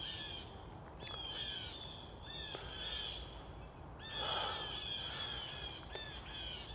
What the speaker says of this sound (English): Wow, birds are going crazy.